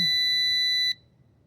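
A single steady high-pitched electronic beep from a G11PRO drone during startup sounds for just under a second, then cuts off, leaving quiet.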